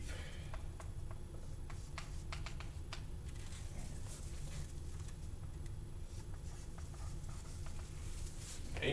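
Marker or chalk drawing on a board during a spherical coordinates lecture: a scatter of short tapping strokes and scratches in the first three seconds, then sparser marks over a steady room hum, no voice.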